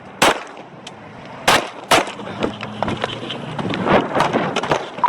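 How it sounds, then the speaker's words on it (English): Police officers fire gunshots at a suspect, several sharp cracks in an uneven burst, two close together near the start and more spread out after, over faint background noise. "In response, 2 officers opened fire"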